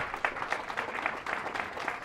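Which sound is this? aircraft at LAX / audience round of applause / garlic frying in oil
audience round of applause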